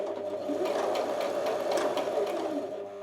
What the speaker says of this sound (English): So now I'm going to start sewing, and it's going to sew horizontally for a few stitches.